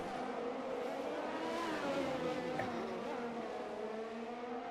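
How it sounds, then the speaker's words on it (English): A Ferrari race car in a racing video game at the Mexico City Grand Prix, engine whining steadily with a brief tire squeal as it spins out, faint and continuous. "Around goes the Ferrari in the exit of turn 3."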